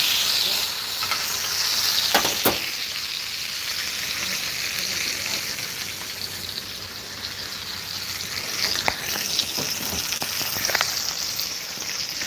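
Steady, close sizzling of meat frying in a hot pan, a continuous crackling hiss with a few sharper pops.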